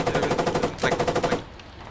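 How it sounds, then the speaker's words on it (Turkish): Machine gun of a T-90A tank in the Squad video game firing a rapid sustained burst of close, loud shots for over a second before cutting off. "Machine gun'la adamı bir tarayayım ya."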